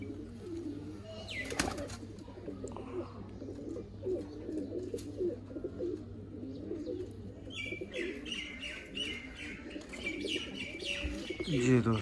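Sialkoti pigeons coo softly at a rooftop breeding loft, with low repeated coos, light chirps and a brief flutter, and higher bird calls joining near the end.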